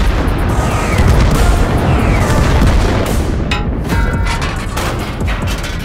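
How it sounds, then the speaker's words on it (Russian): Rocket launches and bomb blasts in a tank cartoon: a dense, loud, continuous barrage of booming explosions and rumbling impacts, with a brief sharper whoosh partway through. "Ты слышал эти выстрелы? Что это было? Это пуски ракет и бомб."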